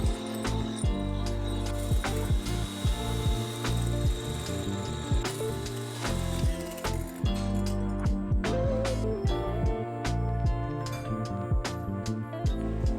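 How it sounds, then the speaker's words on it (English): An electric mixer beats egg whites with sugar to stiff peaks, a loud, steady motor whir with pitch wobbling as the beaters move through the bowl and frequent clicks of the beaters against the bowl. "Beat the egg whites while gradually adding the sugar until it reaches Steve peaks."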